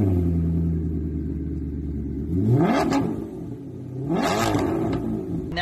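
A classic sports car engine at a classic car auction idles with a deep rumble, then revs up sharply twice in quick rising sweeps, loud and close.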